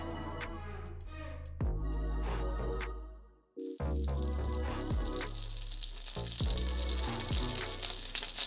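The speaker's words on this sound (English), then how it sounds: "next we'll take the 2 tablespoons of butter" Butter melts and sizzles in a skillet, a steady broadband frying hiss that swells after a brief lull and carries on evenly, close and fairly loud, with no one speaking.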